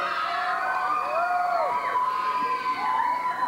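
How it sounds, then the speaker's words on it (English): An audience at a 1989 Balafest event in Cerritos cheers and screams steadily, with high whoops and shrieks, some children among them, rising over a continuous crowd roar for the whole stretch. "make sure you yell and scream"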